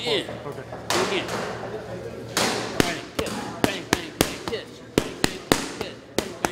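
Boxing punches land on pads at the Mayweather Boxing Club, a series of sharp slaps in quick rhythmic runs, close and loud, with coaching talk over them.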